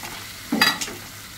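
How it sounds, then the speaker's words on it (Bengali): Fried chicken pieces stirred in a pan give a short scraping stir with a faint sizzle, one brief burst of motion near the middle, close and without talk. "এইবার আমি ভেজে রাখা মাংসগুলো দিয়ে দিব"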